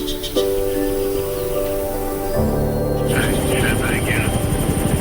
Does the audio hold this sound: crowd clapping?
no